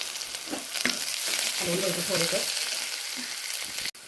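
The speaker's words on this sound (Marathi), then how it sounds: "हा त्यात तडतडते" Cumin seeds and a coarsely crushed garlic-coconut masala sizzle and crackle steadily in hot oil for a tempering, a close, continuous frying hiss with a few sharper pops and stirring scrapes.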